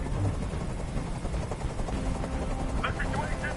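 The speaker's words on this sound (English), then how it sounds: "I can't stand that noise anymore. Tell that helicopter to get out of here." Helicopter rotor drone from the video game Detroit: Become Human, a steady loud chopping roar throughout, with faint game sounds over it.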